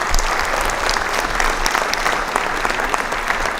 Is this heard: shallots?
no